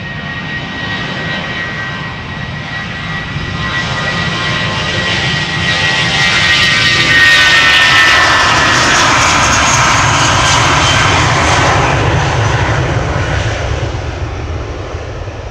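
A British Airways Airbus A320 departs Amsterdam Schiphol for London Gatwick, its jet engine roar swelling to a loud peak midway and then slowly easing off as the aircraft moves away.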